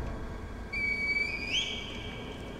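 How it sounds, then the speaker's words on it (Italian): A short whistle blown in the game Sekiro to call the Divine Heir, a thin rising tone of under a second that bends upward at the end, alone over a soft ambient bed. "Vuoi chiamare l'erede divino con un fischio?"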